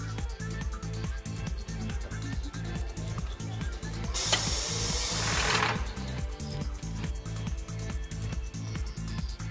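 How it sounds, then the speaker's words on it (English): A TWIN BUSCH TW X-36 tyre changer works its rim press in a workshop, giving a short loud hiss of about a second and a half over a steady repetitive mechanical thumping beat from the machine. "The rim press will be used now."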